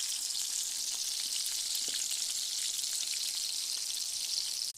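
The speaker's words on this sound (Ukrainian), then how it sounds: "Смажимо на середньому вогні" Steady, dense sizzling of meat-filled bagel pastries frying in a pan over medium heat, loud and continuous with faint crackles throughout, stopping abruptly at the end.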